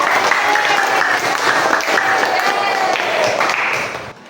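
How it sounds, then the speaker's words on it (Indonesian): A classroom audience gives a round of applause for a presenting group, with dense, steady clapping and some voices throughout before it fades out at the end. "berikan tepuk tangan untuk kelompok 1"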